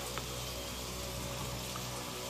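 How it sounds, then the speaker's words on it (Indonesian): Heavy rain pours down suddenly outside a car on a drive, a dense, steady hiss of downpour filling the whole stretch, loud and close with no voices over it. "hujan mendadak turun lebih deras"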